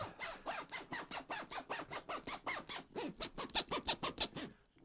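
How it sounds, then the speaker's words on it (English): A rapid run of rasping YKK zipper pulls on a bag, about twenty quick strokes in a steady rhythm, close and fairly loud. "Can you guys hear those YKK zippers?"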